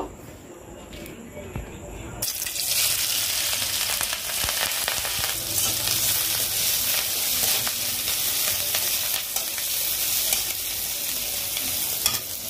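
Chili and onion with spices hitting hot oil in a wok, a sudden loud sizzle bursting in after about two seconds and continuing steadily with stirring, while someone talks.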